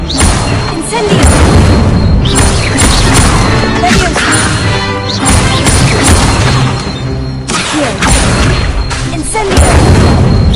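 Incendio fire spell cast at a training dummy in a Harry Potter wizarding video game, loud repeated fiery bursts and crashing impacts over roughly ten seconds, with game voices now and then.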